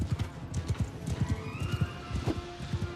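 Horses gallop in a steady clip-clop rhythm during a medieval battle in the game Bandit Lord, with a whinny rising partway through; hooves are loud and close and run continuously for the whole stretch.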